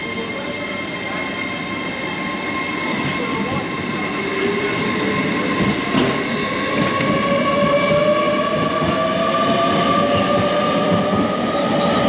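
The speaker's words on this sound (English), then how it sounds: "that was a fantastic ride down to Coventry on the class 805" A Class 805 passenger train rumbles steadily at speed from inside the carriage, with a continuous rolling roar, faint whining tones rising in pitch as it accelerates, and occasional clicks over the rails.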